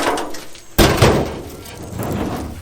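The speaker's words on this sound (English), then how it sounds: "I can get this back glass out of here without any problems." A loud, sharp impact and crack at removal of the rear glass from a rusty four-door Chevy Nova, followed by clattering and scraping of glass and metal in a garage-like space, with no talk.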